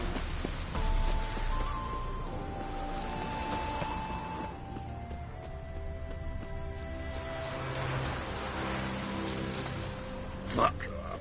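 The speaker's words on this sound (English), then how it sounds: "Hope it rains like this come sowing time." Rain falls steadily in The Witcher 3, a continuous soft hiss of drops on surfaces running throughout, partly under game dialogue and background music.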